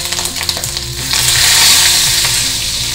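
Cumin, a single dried red chili, ginger and curry leaves sizzling in hot oil, a loud close crackle that swells into a dense steady hiss after a second.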